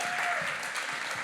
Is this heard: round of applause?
yes